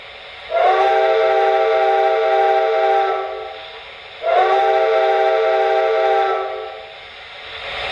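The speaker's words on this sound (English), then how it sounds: "This is the standard whistle." Standard whistle on an MTH Santa Fe Blue Goose model passenger train: two long, steady, chord-like steam-style blasts, each lasting a few seconds with a soft hiss, loud and close with a short gap between them.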